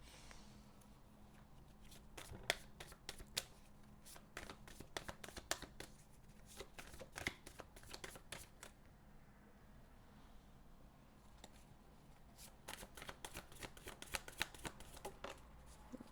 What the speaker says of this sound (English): We're going to pull up some affirmation cards for you that your guides want you to hone in on.